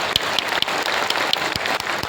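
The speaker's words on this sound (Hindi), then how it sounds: "ये उनकी सेवा, नवाचार और उनके कार्य के लिए एक जोर से ताली हो जाए" A hall audience at an Uttarakhand public event claps in a loud, continuous burst, with several sharp individual claps standing out from the dense patter and no talk over it.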